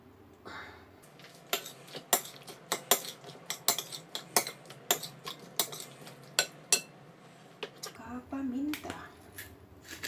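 Marinade of lemongrass, ginger and garlic mixed in a bowl with a utensil, giving a run of sharp clinks and taps at an irregular pace, close and fairly quiet.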